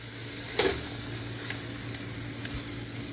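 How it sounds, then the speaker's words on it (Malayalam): Ground masala paste frying in a pan for mutton masala, a steady soft sizzle with a brief louder hiss and stir near the start, continuing evenly and close throughout. "ഇനി നമുക്കിതൊന്ന് നല്ലോണം ഒന്ന് ഫ്രൈ ആക്കി എടുക്കാം"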